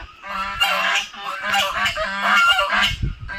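Several geese at a homestay near Darjeeling honking loudly at strangers, a close, insistent chorus of overlapping harsh honks in repeated bursts, with faint voices beneath.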